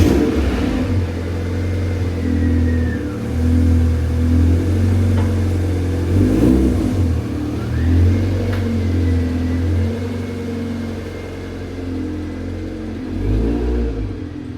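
Idling engine of a rusty Mazda MX-5 being moved outside, a steady low rumble with a few brief revs, close and continuous throughout.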